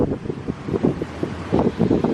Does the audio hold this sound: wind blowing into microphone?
yes